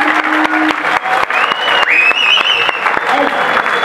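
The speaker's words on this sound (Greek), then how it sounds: "Ένα χειροκρότημα για τον κύριο Κυριακό" An audience applauds a guest, the clapping continuous and fairly loud, mixed with a few whistles and crowd noise.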